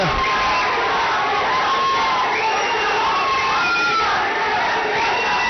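A large crowd at a Janasena political rally roars and shouts continuously, with whoops and cries rising over a dense, distant-sounding wall of voices.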